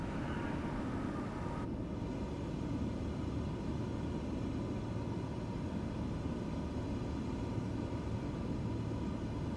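Steady, loud engine drone of an aircraft in Microsoft Flight Simulator 2020, a constant low rumble with a broad hiss that holds unbroken throughout, with no voices.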